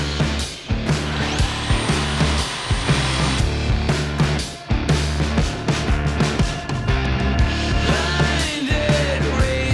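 A power tool cuts through the old exhaust pipe of a Toyota FJ Cruiser, giving a loud, continuous whining and grinding sound with a few brief dips as the cut proceeds, with no voices.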